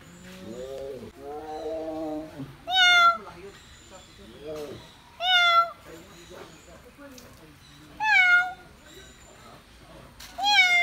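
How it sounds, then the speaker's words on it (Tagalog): Four loud, high-pitched cat meows spaced a few seconds apart, clear and close, with people talking between them, at an animal sanctuary in Pililla, Rizal, Philippines. "Sumasagot siya. Meow!"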